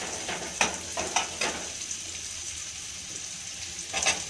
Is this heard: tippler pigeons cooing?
no